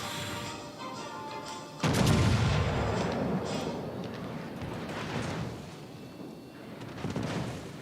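Warship turret guns firing in the naval video game World of Warships: Legends, a loud booming blast at about two seconds followed by rumbling, crashing battle noise and further fire toward the end.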